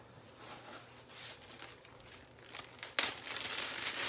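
A plastic bag crinkling as it is handled in a kitchen while cooking, close and soft, a continuous rustle with a sharper crackle near the end and no voices.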